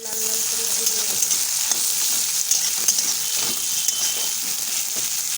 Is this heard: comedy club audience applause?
no